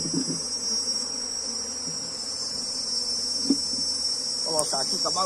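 Honey bees swarm around a hive box rubbed with onion, making a loud, constant, high-pitched buzzing drone close up, with a few faint knocks and scrapes underneath and no speech.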